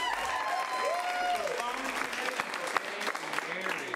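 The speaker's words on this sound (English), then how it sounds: "Give Kelly a round of applause" An improv comedy audience applauds, with dense clapping and crowd noise throughout, a few sharper claps standing out and voices chattering over it.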